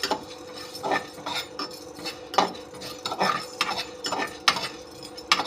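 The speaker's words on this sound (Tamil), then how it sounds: "கொஞ்சமாக மிளகு, அடுத்தது கொஞ்சமாக ஜீரகம், இதையும் வந்து கருகாமல் லைட்டாக வறுத்து எடுத்துக்கோங்க" Pepper and cumin dry-roasting in a pan, heard as repeated scraping and clinking of a spoon against metal at an uneven rhythm, with a faint crackle underneath and no talk.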